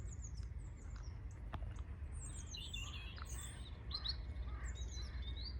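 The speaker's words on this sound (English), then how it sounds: "There's a few robins singing all around." Several robins singing around a quiet autumn spot on the Isle of Wight, their thin, high warbling phrases coming from different directions at a faint distance over a low steady rumble.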